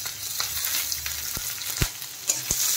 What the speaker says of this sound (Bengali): দিয়ে দিলাম কুচনো পেঁয়াজ